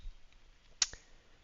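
A single sharp, faint click from a computer mouse, one quick tick against a near-silent background.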